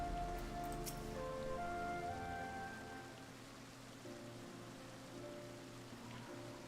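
Water splashes and patters steadily in the background like a fountain in Final Fantasy XIV, with soft tonal music notes drifting over it at first.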